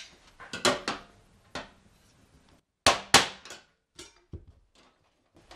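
A knockout being punched out of a Cadet baseboard heater's metal housing, a series of sharp metallic hammer strikes and clanks in irregular bursts, close and loud with short gaps between.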